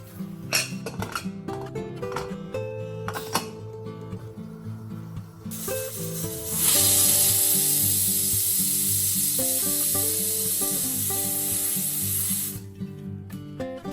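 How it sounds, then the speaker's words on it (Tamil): A pressure cooker steaming mutton curry lets out a loud, sustained hiss of escaping steam that lasts several seconds, following clinking and clattering kitchen sounds. "மட்டன் கறிக்குள்ளே தாளிப்பு மசாலா எல்லாமே போட்டுட்டு இதை ப்ரெஷர் குக் பண்ணி எடுத்துக்கிறேன்"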